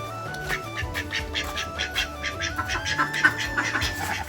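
Repeated duck quacks sound close by over a busy, noisy background, with bursts coming in a loose, uneven rhythm.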